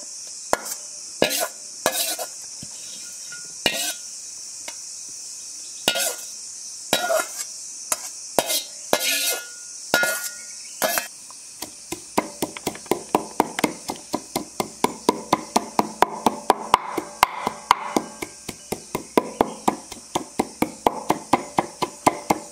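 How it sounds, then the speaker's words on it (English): Ridge gourd peels pounded in a mortar and pestle, isolated sharp knocks at first, then a fast steady run of thuds grinding them to paste. "pound them using a mortar and pestle or a mixer to a coarse paste"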